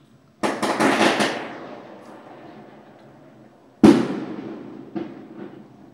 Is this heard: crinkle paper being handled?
no